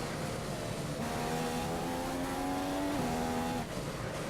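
A Formula One car's engine in the F1 2015 racing game at the Chinese Grand Prix, holding a loud, steady high-pitched whine that climbs through the gears and then drops as the car shifts down, with no talking.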